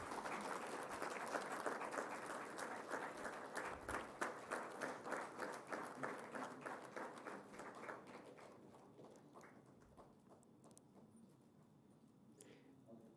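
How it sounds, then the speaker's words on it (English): Audience applause at a university awards ceremony marking World IP Day: a sustained round of clapping that begins full and gradually fades into rhythmic, more unison claps, with quieter scattered hands near the end. "A big round of applause, please."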